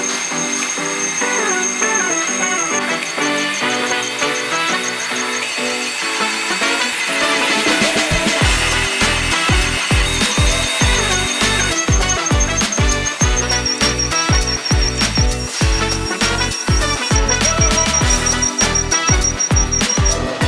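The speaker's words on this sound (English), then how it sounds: "So this is our line boring machine." A homemade line boring machine spins a mag drill bit on a shaft during a pipe rebuild, giving a steady squealing whine that turns into a fast run of rhythmic knocking pulses as the cut gets going.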